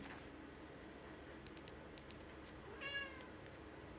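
A house cat gives a single short meow in a quiet home during household cleaning, faint and a little distant against low room noise, with a few light taps before it.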